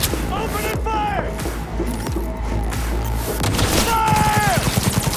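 Bursts of gunfire fill a Cyberpunk 2077 firefight, loud rapid volleys with booming impacts and falling ringing tones, layered over game effects and voices.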